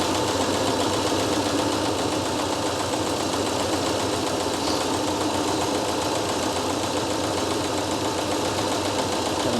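A 1976 Chevrolet C10 engine idling just after a cold start following a coolant flush, a loud, steady, close-up rumble with a faint knocking texture throughout.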